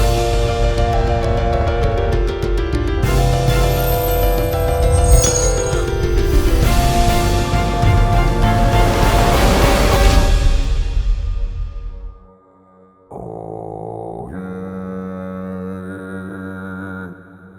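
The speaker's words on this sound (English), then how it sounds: "And then it sounds like this giant, tremendous burp." A giant creature's burp for the Windbound video game, made from a slowed-down sound: a long, loud, deep rumbling belch with shifting tones that fades out around twelve seconds, followed by fainter tonal sounds.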